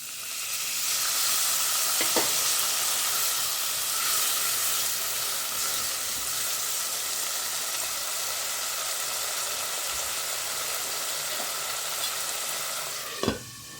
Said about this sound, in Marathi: आता झाकण ठेवायच्या अगोदर आपण ह्याच्यात थोडंसं पाणी टाकून घेऊया